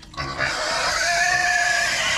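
A piglet gives a loud, close, sustained squealing oink that starts abruptly and carries on for about two seconds without a break.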